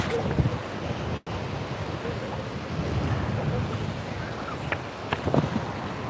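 Steady wind by Lisi Lake in Tbilisi, Georgia buffets the microphone with a constant roar, broken by a brief dropout and a few faint clicks.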